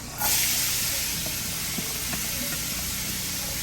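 Cajun trinity vegetables hit a hot pot with pork fond and burst into a loud sizzling hiss, which holds steady and slowly softens.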